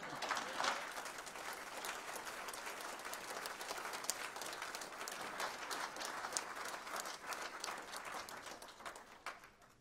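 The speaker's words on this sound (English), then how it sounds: "We should give our round of applause again for our mayor and our city manager" Audience at a 2018 city address applauds the mayor and city manager, a full, steady patter of many hands clapping from a hall crowd that fades out near the end.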